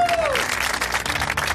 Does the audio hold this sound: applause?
yes